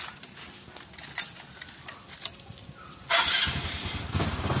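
A few quiet clicks and a starter whir, then a Honda XRM 125Fi motorcycle engine catches and settles into a loud, steady idle.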